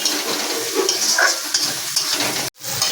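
Turmeric frying with shrimp in a pan, heard as a continuous close sizzle with faint stirring and utensil scrapes that breaks off abruptly near the end; no voices.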